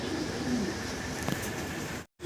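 A pair of pigeons, a male and a female, give soft, low coos while being handled and shown off. The cooing sits faintly under steady background noise and ends with a brief drop to silence.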